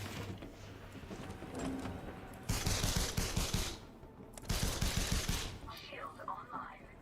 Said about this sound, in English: Motherfucker's got a grenade launcher!